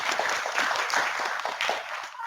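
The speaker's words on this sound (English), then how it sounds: "Big round of applause." Audience applause and cheering at a children's science show with a feelie box game, a dense wash of clapping that holds steady for about two seconds before tapering off, with voices mixed into the crowd noise.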